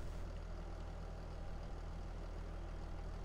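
Tractor engine idling in the video game Farming Simulator 22, a low steady rumble with a faint regular throb running unchanged throughout, heard alone without talk.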